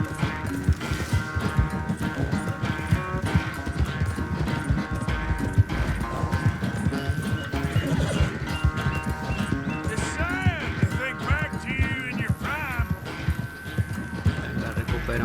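Horse hooves clip-clopping at a gallop in the Western game Red Dead Redemption 2, a steady close rhythm under dense game music, with the horse whinnying near the end.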